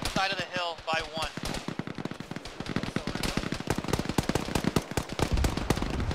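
Rapid gunfire crackles through a firefight in the Arma military game, dense volleys and bursts of shots traded back and forth, loud and close, with voices talking over the shooting.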